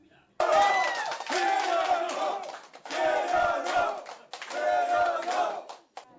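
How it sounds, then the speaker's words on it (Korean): Campaign supporters cheer during a tight election vote count overnight, three loud bursts of shouting and whooping from a crowd in a room, each lasting about two seconds with brief pauses between. "한 표라도 역전하면 탄성과 환호가."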